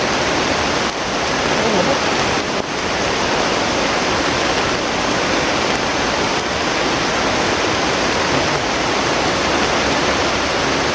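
Heavy rain pours down in a steady, dense roar that fills the whole stretch, loud and close, with no pauses or changes in strength.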